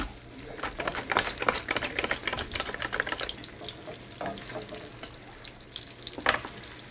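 Potatoes and onions frying in a pan, a soft crackling sizzle broken by irregular scraping and stirring clatters, close and moderate in level.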